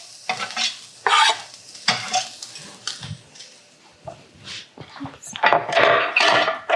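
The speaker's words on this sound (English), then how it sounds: "And we're gonna add in our garlic and saute that." Garlic sautés in oil in a pan, giving a close crackling sizzle broken up by bursts of stirring and spatula scrapes against the pan, with a person talking between the noises.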